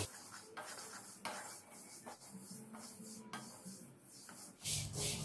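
Sesame seeds roasting over low heat rustle and scrape in a pan, with soft continuous rasping and occasional stirring clinks, fairly quiet and steady, no voices.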